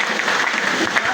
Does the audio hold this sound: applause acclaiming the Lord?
yes